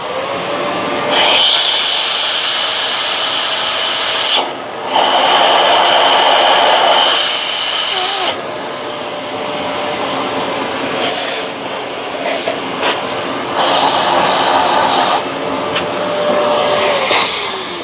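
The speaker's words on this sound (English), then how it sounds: "let's switch on the grinder and try to empty everything that's inside this" A loud Fiorenzato Allground coffee grinder whirs in several long bursts with brief dips between, a harsh, steady motor roar close by.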